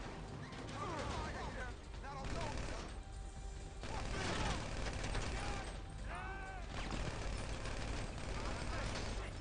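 A GTA 5 video game shootout, with bursts of gunfire mixed with vehicle engine noise. The shots come in clustered volleys separated by brief lulls, and voices talk over the action.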